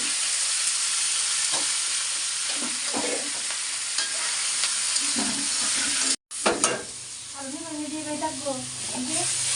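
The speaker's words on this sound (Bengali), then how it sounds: "সবজিটাও একটু ভাজা দিয়ে নেব" Vegetables frying in a pan for a stinging catfish and drumstick curry, a steady close sizzle with stirring scrapes throughout, broken by a brief cut near the end, as someone talks over it.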